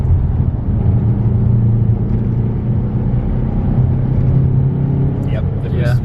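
Saab 9-5 turbo accelerating under building boost, a steady low engine rumble and drone heard from inside the car, continuous and fairly loud throughout, with a faint whirring rise near the end.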